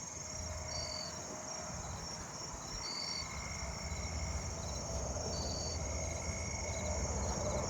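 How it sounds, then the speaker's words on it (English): Agile katydids and a nearby tree cricket calling outdoors, steady insect trilling layered with repeated short, high buzzy chirps over a continuous droning night chorus. "The agile katydids are calling right now."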